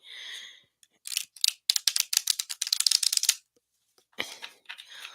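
Rapid clustered riffling and snapping of cards being shuffled, close by, in several bursts separated by short pauses.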